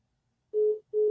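A telephone line busy signal after a caller hangs up: two steady, loud tones separated by a short gap, with nothing else audible.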